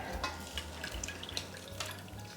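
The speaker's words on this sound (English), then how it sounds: "I'm going to let it just sit for a couple minutes and drip." Lavender-infused vinegar drips through cheesecloth, soft irregular liquid drips and trickles close by, quiet and continuous with no voices.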